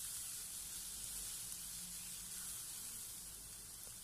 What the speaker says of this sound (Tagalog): ilalagay na natin ang ating garlic and ituloy din lamang natin ang ating paggisa